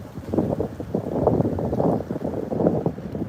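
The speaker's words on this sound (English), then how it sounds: "it's pretty windy, man" Gusty wind blowing outdoors near the water on an inshore fishing trip, a steady loud rumble with buffeting swells across the whole stretch, no talk over it.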